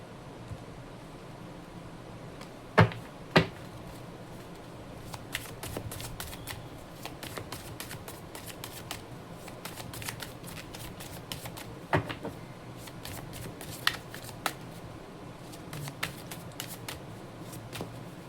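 Tarot cards being shuffled during a reading, with soft riffling and flicking of cards in irregular bursts, a few sharper slaps near the start, close and fairly quiet with no talk.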